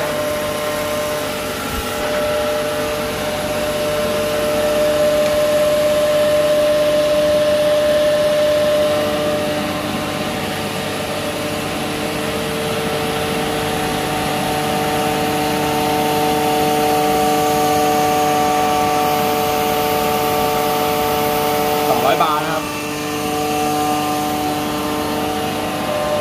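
A Komatsu PC120-6 excavator's hydraulic pump runs steadily during a post-repair load test, giving a loud, continuous droning whine with a sustained engine hum that holds level throughout, briefly rising with a short clattering surge near the end.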